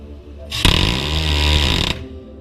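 An American C-RAM weapon system fires one loud, close, sustained buzzing burst lasting just over a second, cutting off abruptly with a brief trailing rumble.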